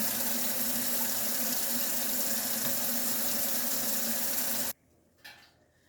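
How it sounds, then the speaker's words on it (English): A chile pepper is rinsed under a running kitchen tap, giving a steady loud rush of water that goes on for several seconds and then stops abruptly, leaving a quiet room with a faint knock. "I usually rinse it off with water sometimes."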